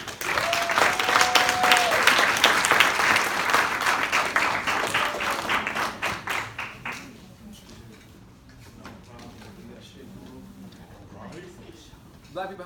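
Warm applause from an audience welcoming a speaker on stage at a Black campus movement event, a loud dense burst of clapping that thins out and fades to near quiet after about seven seconds.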